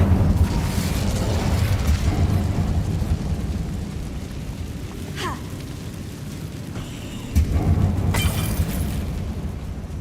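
An Incendio fire spell erupts in the Hogwarts Legacy video game inside a closed mine, a loud roaring blast of broadband noise that fades briefly mid-way before surging again.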